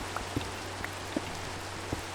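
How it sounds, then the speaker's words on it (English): Steady Minecraft rain hisses as a broad, even wash, with a few soft drip-like taps scattered through it, heard alone and fairly quiet. "Oh, and it's raining."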